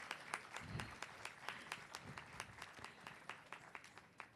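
Audience applause for a guest at a dance academy program, a faint, even patter of many hands clapping that keeps up steadily for several seconds, with a few low murmurs underneath.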